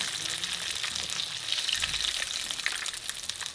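Battered baby shrimp tempura deep-frying in hot oil, a dense, continuous close sizzle and crackle that holds steady throughout with no voices.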